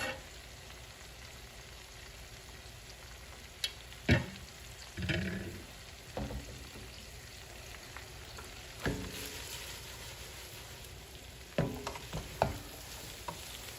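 Corned beef fries in a pan with a low, steady sizzle, broken by several sharp scrapes and clatters as it is stirred, close by and with no talking.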